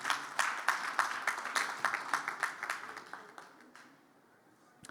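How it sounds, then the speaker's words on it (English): Applause from an audience at a health event greeting a presidential health advisor: scattered, fairly soft clapping that holds steady, then thins and fades toward the end, with faint voices underneath. "a round of applause for Dr. Salma."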